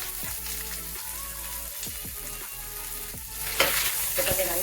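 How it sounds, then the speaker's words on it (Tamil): Onion and green chilli with curry leaves sizzle and fry steadily in hot oil, loud and close, with stirring scrapes running throughout. "இது கொஞ்சம் நல்லா வதக்கிக்கோங்க."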